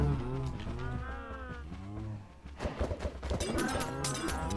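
Minecraft cow lowing in a couple of drawn-out moos, fairly close and moderately loud over a quiet game background, followed by a few clicks and soft effects.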